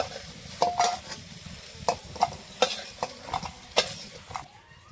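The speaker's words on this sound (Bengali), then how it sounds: "আলু ভাজা হয়ে গেছে দেখুন লাল লাল করে ভেজে নিয়েছি এখন নামিয়ে নেবো" Potatoes frying in oil in a wok sizzle under a series of sharp scraping stirs and spatula knocks, close and fairly quiet, with no talking.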